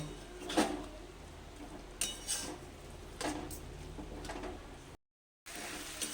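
Ghee-fried Gobindobhog rice tipped into bottle gourd in a pan and stirred, with a few scraping clinks of a spoon against the metal over a quiet background, and a brief dropout near the end.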